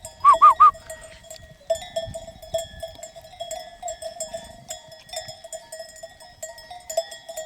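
Sheep wearing cowbells move along a hillside near a fountain; a quick burst of bleats opens, then bells clank and jingle steadily with an uneven, walking rhythm, close and moderately loud over soft rustling.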